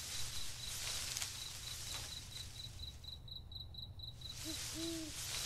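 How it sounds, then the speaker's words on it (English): An owl hoots faintly in a night forest setting, two short low calls near the end over a steady, evenly pulsing cricket-like insect chirp and soft background hiss. "She heard the gentle rustling of leaves and the hoot of an owl."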